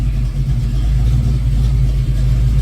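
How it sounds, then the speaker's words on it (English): A warmed-up Ford Foxbody engine with a surging idle and hard warm-start trouble runs at raised RPM during a key-on engine-running test, a loud, close, steady rumbling drone. "Once I tell it to start running, it's going to jack the RPMs up for a while and start going through some tests"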